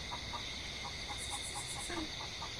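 Chicken clucking in The Hollow Shift, a Filipino horror game set in a rural province: a soft, steady run of short clucks repeating at an even pace, fairly faint under a constant background hiss, with no talking.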